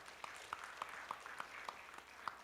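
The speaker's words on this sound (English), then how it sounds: "giving them a big round of applause" Audience applause for six finalists at a research presentation event, faint and distant clapping from a crowd, with a few sharper individual claps standing out at regular intervals.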